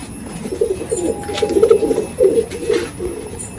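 Pigeons coo repeatedly inside a loft, a racing-pigeon loft, with overlapping low, rolling calls rising and falling in bursts, fairly close and moderately loud, without any talking.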